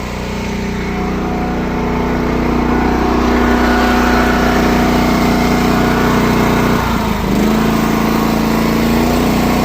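A tractor engine runs steadily while baling, a loud, continuous mid-pitched drone with a brief dip and clunk partway through before the running resumes.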